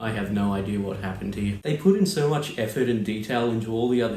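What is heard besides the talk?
None of the usual background noises is heard.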